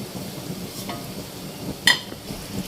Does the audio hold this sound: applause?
no